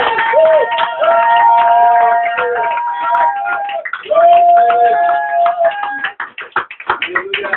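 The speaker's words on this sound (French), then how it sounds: "On acclame le Seigneur avec toute la gloire." Church congregation cheering and acclaiming the Lord, loud sustained shouts and high ululating cries overlapping, then breaking into scattered clapping toward the end.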